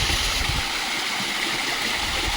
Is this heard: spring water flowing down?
yes